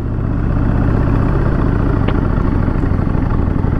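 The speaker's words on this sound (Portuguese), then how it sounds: "Agora sim, as motos tudo funcionando" Honda Dream and Harley-Davidson motorcycle engines idle and rumble loudly and steadily up close, with a low mechanical clatter throughout.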